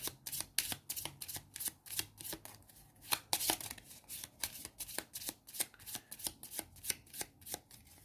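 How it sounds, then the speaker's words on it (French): A deck of game cards being riffle-shuffled during a solo Marvel Champions card game session, with quick crisp bursts repeating steadily throughout, close and fairly loud, no talking. "Je vais remélanger d'abord le paquet."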